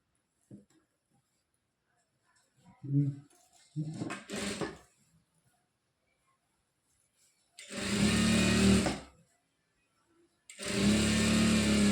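Sewing machine stitching churidar pant fabric: two sustained mechanical runs of whirring motor noise, fairly close and loud, following a stretch of quiet with a few soft handling thumps.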